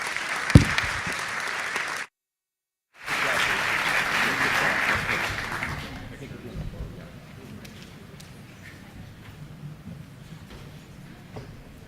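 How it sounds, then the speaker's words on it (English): Conference audience applauds the morning's panelists at an investment launch event, a broad wash of clapping that swells, cuts out briefly, returns, then fades into quieter room noise with scattered claps. "Please join me in a round of applause for this morning's panelists."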